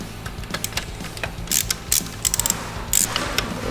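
A ratchet loosens a bolt on the battery tray module of a Sportster motorcycle, giving a close, rapid run of clicking pawl strokes in bursts, with no voices.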